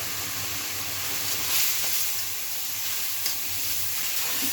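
Coriander powder, turmeric and other ground spices frying and being stirred in a pan for a potato-and-papaya pangas fish curry. A steady, close sizzling hiss runs throughout, with faint stirring scrapes and no voices.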